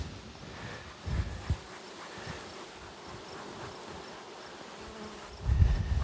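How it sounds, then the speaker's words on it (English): Dense, steady buzzing of many honeybees close by at an open hive during a late-season colony check, a continuous droning hum with occasional louder low thumps and rustles. "Well, there's so many bees for one."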